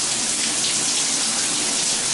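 Hot water from a shower in a tub-and-shower combination pours hard under strong pressure, a steady, dense hiss of spray striking the tub that holds at an even level throughout.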